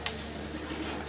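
Pigeons coo on a rooftop in a single soft, low call near the start, set against a steady background hum.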